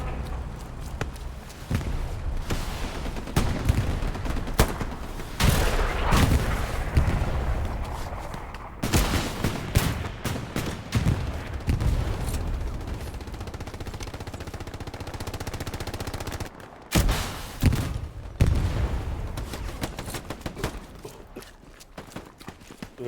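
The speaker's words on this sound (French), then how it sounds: "Ça tire depuis la maison cassée." Gunfire crackles in bursts from a broken house during infantry combat in Hell Let Loose, loud and repeated, with rapid shots and footsteps over a dense battle din.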